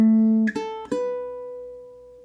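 Low G ukulele fingerpicking bar 4 of Bach's Bourrée, a few clear plucked notes with a ringing held note decaying at the end, played alone with no talking.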